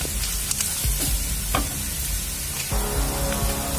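Spices with cumin powder fry in a pan for paneer lababdar, a loud continuous sizzle with several sharp scraping stirs of a spoon, close up and without speech.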